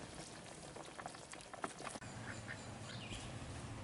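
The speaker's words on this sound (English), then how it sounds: "And there's 2 of my healthy, happy ducks." Pair of backyard ducks quacking near an outdoor barbecue smoker, a few soft quacks amid rustling and bubbling background noise, faint and intermittent with a brief knock midway.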